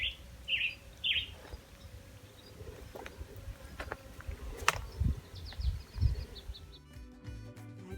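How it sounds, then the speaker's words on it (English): Several short, high bird calls chirp early on, quiet and somewhat distant over an outdoor background of soft buzzing insects and rustle. "It's the bird sound that you hear when I was showing in the stream."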